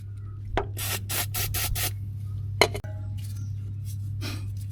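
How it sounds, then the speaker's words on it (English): A spanner works loose the anti-roll bar link nut on a Vauxhall Corsa, making a series of close metallic clicks and ratcheting rasps in short bursts, then a sharp clink over a steady low hum. "So that should be the nut slackened off."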